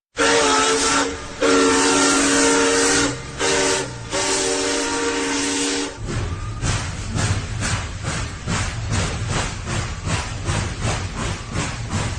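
A train rumbles steadily throughout, with a loud sustained whistle or horn blast in the first half, then rhythmic clattering of wheels over track joints.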